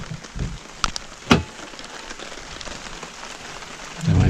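Heavy rain drums steadily on a tarp over a car-camping spot, close and continuous, with a few sharper thuds and drips in the first seconds and no voices.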